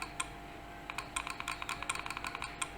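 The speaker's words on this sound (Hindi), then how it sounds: "डायरेक्ट लिख भी सकते हैं कीबोर्ड से" Rapid clicks of typing on a computer keyboard, light and fairly close, in irregular bursts of keystrokes with no talking.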